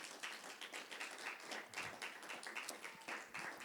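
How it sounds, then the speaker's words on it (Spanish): Congregation applauding inside a church during a Spanish-language service, a dense patter of many hands clapping steadily at moderate distance with no talking. "Den un aplauso al Señor."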